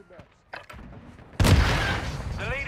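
A C4 or frag grenade blast in Call of Duty: Modern Warfare II hits as a sudden loud broadband boom, followed by sustained rumbling debris and gunfire noise, after quieter muffled game sounds and brief voice-like bursts.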